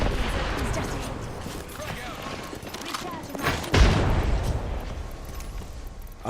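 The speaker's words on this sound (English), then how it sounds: "Here, I'm gonna toss a nade in there." A grenade goes off in a video game shootout: a heavy boom lands midway, set among rattling gunfire and rumbling effects, with players talking over the action.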